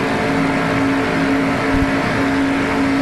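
A 1994 NASCAR Winston Cup stock car engine roars at high revs, a loud sustained drone with a steady pitch as the car speeds down the straightaway.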